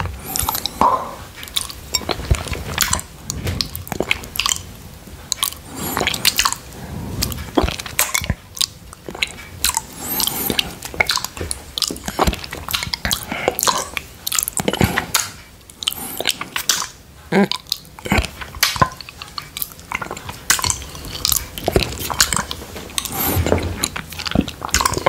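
Close wet mouth sounds of licking strawberry yoghurt off a plate, steady smacking and slurping bursts continuing throughout at close range.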